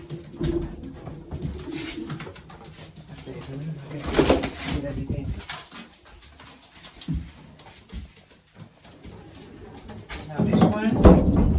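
Racing pigeons coo in a loft: soft, low, repeated throaty calls near and far, mixed with wing flutters and cage knocks, while someone talks over them.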